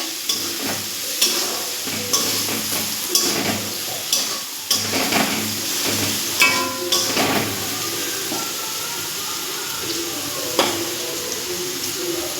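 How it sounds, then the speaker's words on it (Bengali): Potatoes frying with chilli powder get stirred with a spatula, giving steady sizzling and repeated scraping strokes at a close, moderate level for the whole stretch, with no one speaking. "হাফ চামচ লঙ্কার গুঁড়ো দিয়ে দিচ্ছি দিয়ে একটু ভালো করে নাড়ব"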